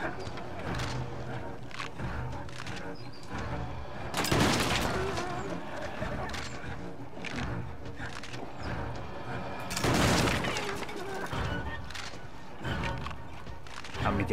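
The hunter's shotgun blasts in Little Nightmares II, two loud booming shots spaced several seconds apart over a tense, rumbling backdrop with talking throughout.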